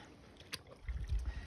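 A wild rag is plunged into plain rinse water, making soft low sloshes and swishes that build in the second half after a brief faint splash, fairly quiet and close with no talking.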